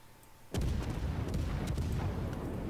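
Naval gunfire from a warship in a naval battle video game, an abrupt loud boom followed by sustained rumbling salvo fire with several sharper reports layered over it, close and dense.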